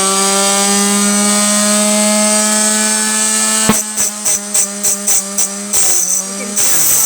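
Power saw cutting zinc came for a stained glass border: a loud steady whine, then a series of short chopping bursts as the blade bogs down and recovers repeatedly.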